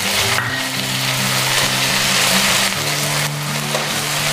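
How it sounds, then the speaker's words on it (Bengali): Ginger garlic paste frying in a pan over fried onions, a steady close hiss of sizzling that runs the whole time, with a low hum and faint tonal noise underneath. "এইখিনি অলপমান কেঁচা গন্ধ যোৱালৈকে ভাজি লম"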